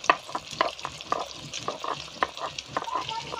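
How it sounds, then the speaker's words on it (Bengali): Fish sizzle in hot oil in a pan, with crackling spits and stirring clatters coming in irregular bursts at close range, fairly quiet overall. "তো মাছগুলো ভেজে নিই, তারপরে আমি পরের পাটে আসছি।"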